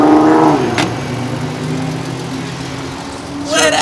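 A car engine revs at a Long Island car meet, a steady low drone that holds throughout while voices talk over it near the start and end.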